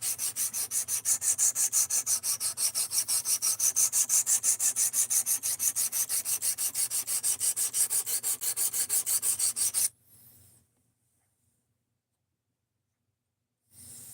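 A blade being sharpened, material ground off to raise a burr, gives a steady, close rasping rub in quick regular strokes for about ten seconds, then stops into near silence before a brief return.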